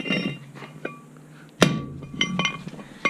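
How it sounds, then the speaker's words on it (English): A hammer smacks a pin angled against the edge of a brake bearing race on a Chevy front hub, a sharp metallic strike among a few lighter clinks and taps. "Take your pin here, get a hold of one of the edges really good, and angle it pretty severely, and then just smack it once"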